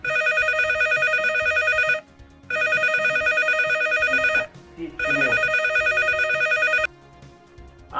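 A telephone ringing in three long, loud electronic bursts of about two seconds each with brief pauses, close by, with faint movement sounds between rings.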